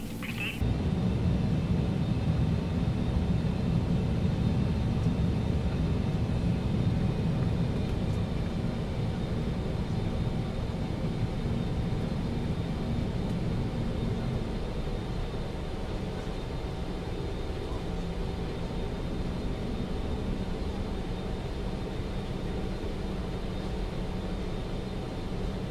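BAe 146 airliner taxiing to the gate at Lanzarote Airport in Microsoft Flight Simulator, a steady low jet engine rumble and whine droning continuously without talk.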